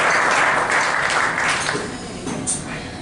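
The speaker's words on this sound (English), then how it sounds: "Big round of applause" Short burst of audience applause at a 2018 county commission candidates' debate, loud at first and gradually thinning out as the clapping fades toward the end.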